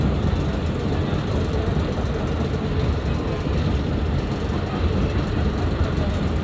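A Shalimar Express train running at full speed on a branch line, giving a steady, loud rumble of wheels and carriage noise that holds continuously without letting up.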